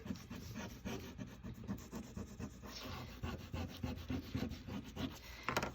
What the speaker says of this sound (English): I'm going to just close that up and rub those areas again